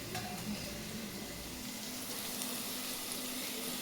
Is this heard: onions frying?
yes